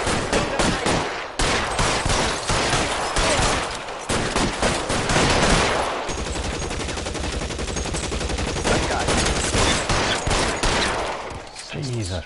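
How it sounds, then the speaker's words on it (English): Sustained covering gunfire in the video game L.A. Noire, loud dense volleys of rapid shots crackling almost without pause for several seconds, briefly easing before resuming. "Lay down some covering fire!"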